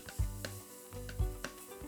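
Vegetables, corn and sauce sizzle steadily in a hot pan while a utensil stirs with periodic scraping strokes, close and moderately quiet.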